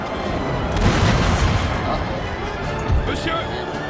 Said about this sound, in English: Canister fire into them.